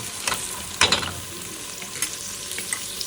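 Onion and garlic frying in oil for a Sylheti satkora fish curry, a steady soft sizzle close by with a few louder crackles and stirring scrapes, no voices.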